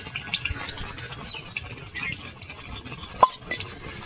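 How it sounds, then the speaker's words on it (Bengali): Mango pickle mixed with fried spices being stirred in a pan, heard as soft, irregular scraping and shuffling with light metallic clinks, one sharper clink standing out near the end, quiet and close. "এবার আমি ভালো করে নেড়ে চেড়ে দেবো"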